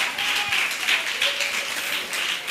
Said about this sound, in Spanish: Denle un fuerte aplauso al Señor porque Él vive y reina